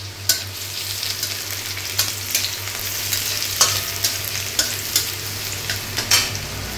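Chopped onions fry in hot mustard oil with grated garlic, a constant close sizzle punctuated by regular clinks and scrapes of a spoon stirring against the pan, with no talking.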